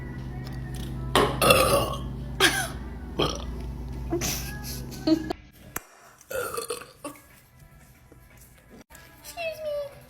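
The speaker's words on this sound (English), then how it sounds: "I feel a burp coming." A young girl lets out several loud, close burps, with brief breathy pauses and a bit of child chatter in between.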